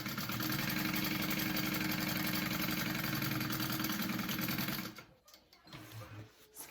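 A sewing machine runs a continuous, loud whirring stitch close up while sewing a bag lining, then stops abruptly near the end and leaves a few quiet handling sounds.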